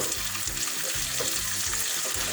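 Homemade red capia pepper paste sizzles in a pot and is stirred with a spoon, giving a steady, close, loud frying hiss under a low rhythmic scraping pulse, with no talking.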